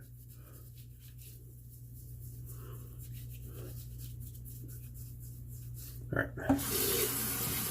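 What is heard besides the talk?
rinsing straight razor shaving gear under water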